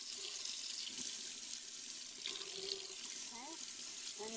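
Hot water flows from a tap into a sink in a steady, faint, close rush, with a brief voice near the end.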